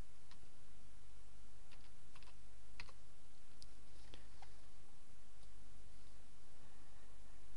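A computer keyboard taps out a password in scattered, uneven keystrokes over a constant low hum, faint and close, with no talking.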